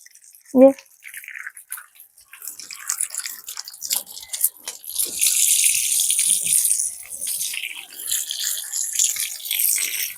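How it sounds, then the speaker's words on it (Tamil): Soil-covered cassava tubers are scrubbed by hand in water, giving close, steady splashing and trickling that builds and continues after a brief vocal sound near the start. "இப்போ வந்து நாங்கள் இதை நல்ல வாட்டிவா கழுவி எடுக்கணும்"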